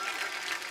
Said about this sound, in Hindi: दावा के लिए जोरदार तालियां।